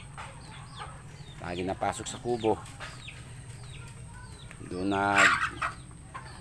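Chickens cluck and squawk in short bursts nearby, with a louder squawk near the end, while a person talks over them.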